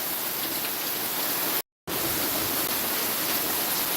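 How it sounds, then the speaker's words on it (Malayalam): Dense steady hiss of heavy rain pouring down, broken by a brief cut to silence midway. "നല്ല മഴ പെയ്യുന്നുണ്ട് കേട്ടോ ഭയങ്കര മഴ"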